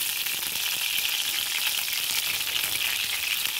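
A ladle of oil in a hot kadhai gives off a steady, bright, hissing sizzle that stays even throughout, close and without voices.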